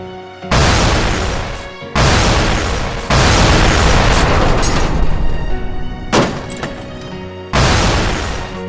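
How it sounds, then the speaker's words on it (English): A Lego plane smashes down on a sandy beach in a series of loud crashes, four or five sharp impacts with scattering plastic clatter, each followed by a short decaying rattle. "let's get this plane crashed"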